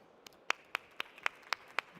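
A single person claps slowly and sparsely, about seven sharp claps spaced evenly, quiet and isolated in an otherwise hushed room at a healthcare panel event.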